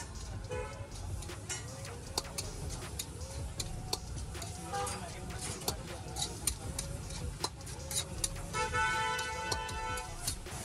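A car horn honks a few times over busy Indian street-food-stall noise, with clicking and clattering sounds and people talking nearby.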